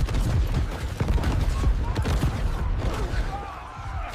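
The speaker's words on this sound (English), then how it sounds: "we've been getting shot at for 6 hours" Rapid blaster fire crackles in dense bursts aimed at stormtroopers, loud and close, with impacts and mechanical clatter mixed in and a voice speaking over it.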